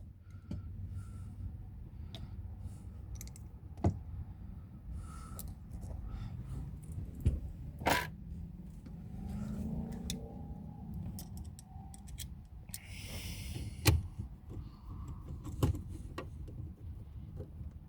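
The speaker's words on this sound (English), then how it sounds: "Next thing I'm gonna do is go ahead and start putting these screws back in." Screws being driven back into a Toyota Tundra dash panel during a radio install, heard as scattered faint clicks and ticks with a few sharper snaps, close and quiet, with no talk.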